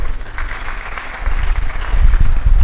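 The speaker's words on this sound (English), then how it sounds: "I think you'll give me another round of applause" A lecture-hall audience claps for an engineering dean's inaugural lecture, loud and steady and swelling toward the end, with a faint voice underneath.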